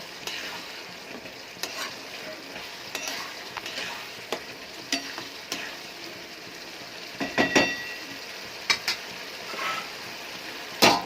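A spoon stirs chicken curry with salt and turmeric in a sizzling pan, giving a soft frying hiss broken by irregular scraping knocks and clatters against the metal, growing louder toward the end.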